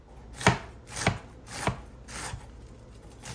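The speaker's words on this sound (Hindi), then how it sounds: "थोड़ी सी मैंने लेटस कट के" Lettuce being chopped with a knife in a home kitchen: four crisp, evenly spaced cuts against a board, close and clear, with no talking.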